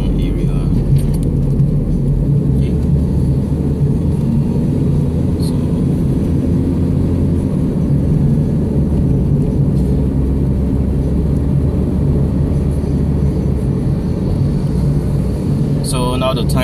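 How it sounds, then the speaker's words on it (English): A car drives through town streets at night in Klang, Malaysia, giving a steady low engine and road rumble throughout, with a brief jangle near the end. "this video also is my first time I record driving at night"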